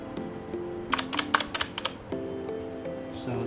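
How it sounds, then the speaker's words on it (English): A Philips SPK8614 mechanical RGB gaming keyboard's keys are pressed in a quick run of about eight sharp clicks that cluster near the middle of the take. A quiet hum continues underneath, and no one speaks. "This is what it sounds like. Because it's a mechanical keyboard."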